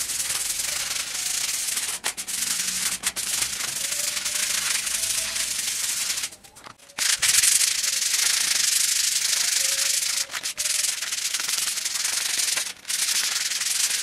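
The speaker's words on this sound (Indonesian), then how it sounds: "Kita gosok ya untuk menghaluskannya atau meratakannya seperti ini" A tool rubs steadily across a freshly plastered wall to smooth and level it, making a continuous close, gritty scraping with a few short pauses between strokes.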